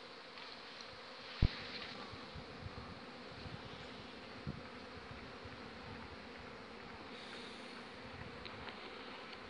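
Honey bees buzz steadily around an open feeder on a sunny day, a dense, continuous drone of many insects close by, with a couple of faint knocks.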